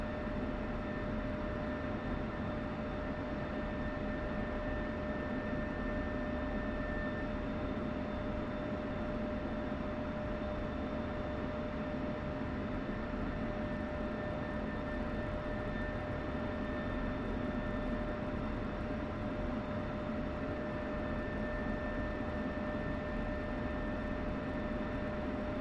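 An F-16C Viper jet engine idling with RPM raised slightly in DCS World, a steady continuous roar with a constant high whine and low hum, unchanging throughout and without speech.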